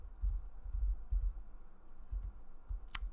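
Computer keyboard typing during a spreadsheet VLOOKUP entry: soft, close key taps and low thumps in irregular bursts, ending with a sharper click near the finish, no voices.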